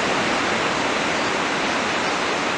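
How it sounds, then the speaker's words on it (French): Ocean surf at Anglet beach, a steady, loud, unbroken roar of breaking waves with no distinct individual crashes. "Donc ça va grossir et pour le moment mes vagues on va dire multipiques, assez rapides, assez fermantes."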